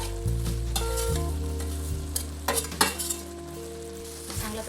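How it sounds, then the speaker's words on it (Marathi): Ladoo filling sizzling in a pan as roasted rava and sev are stirred in, a continuous loud fry with scraping spoon strokes and occasional clinks of metal against the pan, no voices. "5 मिनिटं चांगलं शिजवल्यानंतर आपण जे भाजून ठेवलेला रवा आणि शेव आहे त्याच्यात मिक्स करायचं आहे"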